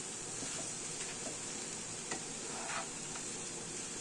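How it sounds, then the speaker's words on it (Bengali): Sugar is stirred into flattened rice in a hot pan, giving a quiet, even sizzle with a few light spoon taps and scrapes. "একটু নেড়ে নেড়ে নিই"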